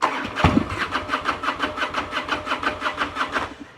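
A fuel-injected Harley-Davidson Road King motorcycle engine cranks and catches, then settles into a close, loud, steady loping idle with an even rhythmic pulse.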